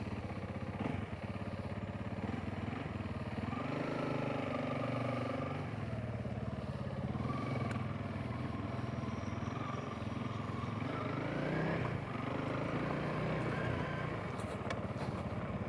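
A Honda CRF300L motorcycle rides down the road, its engine droning steadily with shifting pitch as it accelerates and changes gear, heard from the rider's position over wind and road noise.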